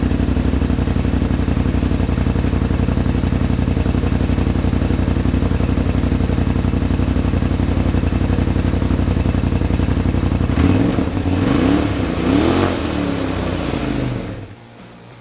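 A Polaris RZR Pro XP engine fitted with an S&S Power Tune XTO muffler and 1.5 dB reducers runs at a steady loud idle, then gives a few quick revs before dropping away to quiet near the end.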